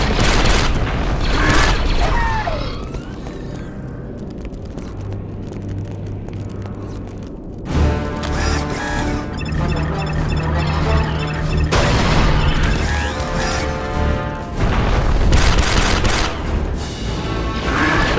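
Heavy booms from grenade blasts go off in the Star Wars Republic Commando video game, loud and near, with a few big bursts mixed with gunfire, mechanical clatter and music.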